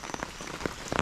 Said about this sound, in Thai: ฝนกะตกมาอีกละ